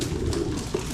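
A racing pigeon arriving home from a training flight coos softly and close by, with a low, steady murmur throughout.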